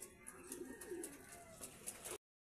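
Racing pigeons coo repeatedly at a training loft, soft throaty calls layered over light chirps and bustle, close and steady, with no talk.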